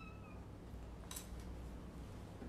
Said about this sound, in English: Wanna say hi to this cat?